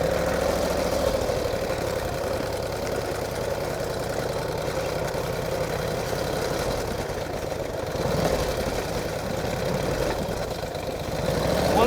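A 1949 Harley-Davidson Panhead motorcycle with a rigid rear end, its engine running in a steady, loud, close rumble that holds an even beat for the whole clip, with no talk over it.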